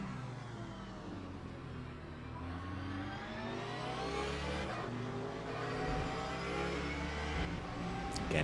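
Several GT3 race cars lapping the Bahrain Outer Circuit in a racing video game, engines droning steadily and rising together in a continuous close roar with no pauses.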